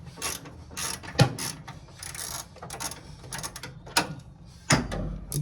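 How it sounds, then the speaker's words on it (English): Ratchet wrench loosening the fan shroud bolts on a Ford inline-six 200 cubic inch engine, with close, rapid bursts of clicking pawl ratcheting and several sharper clunks of metal, and no talking. "I'm just going to loosen all the bolts first."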